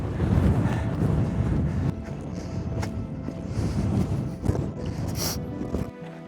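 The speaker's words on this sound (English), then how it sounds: "There's a fair wind now as well. Kind of comes and goes." Gusty wind batters the microphone in Glen Etive in the Scottish Highlands, a loud rumbling roar that eases and returns, dropping away sharply near the end, with a few faint knocks.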